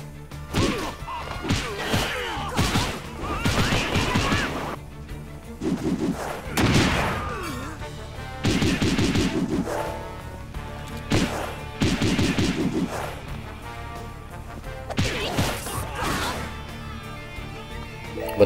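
Repeated bursts of gunfire and heavy impacts from combat in the One Piece World Seeker game, loud clustered volleys with short gaps between them over about eighteen seconds, with no talking.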